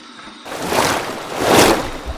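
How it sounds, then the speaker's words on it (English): Warm water runs for a rinse after a safety-razor shave, a close, steady rushing splash that swells and eases as it pours, with no talking. "Here's my warm water rinse."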